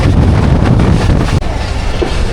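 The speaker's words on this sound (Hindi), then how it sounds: "रोडी जंक्शन पे अप्रोच बना रही है हमारी 47 अब रहमान बाबा एक्सप्रेस" Rehman Baba Express, the 47 Up, approaches Rohri Junction, heard as a loud steady rumble of rolling train wagons with wind buffeting, continuous and close throughout.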